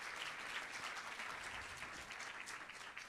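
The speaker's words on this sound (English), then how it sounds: "I would like to give a special round of applause to the teachers." Guests at a kindergarten boys' graduation give the teachers a round of applause, a soft, fairly distant wash of many hands clapping steadily for a few seconds.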